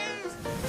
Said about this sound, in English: a rescued stray cat named Tommaso